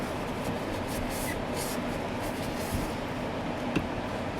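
A sheet of paper wipes the inside of the peeper window glass on a Kenworth T370/T800 truck, soft steady rubbing strokes up close with a couple of faint knocks and no talking.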